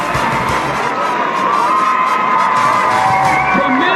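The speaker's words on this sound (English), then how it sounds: "Listen to this crowd, Tim." A large crowd at a high school football game roars and cheers steadily after a touchdown, loud and sustained throughout with whoops and shouts mixed in.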